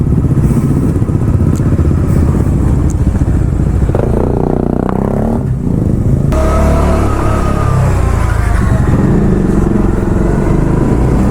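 Superbikes, including a Suzuki Hayabusa, ride together at midnight, giving a loud, continuous engine roar close by that swells as one machine approaches and passes, then settles into steady droning.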